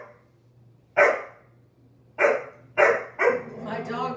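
A dog barks four times, loud and close, with irregular gaps between the barks and the last one trailing into a whine.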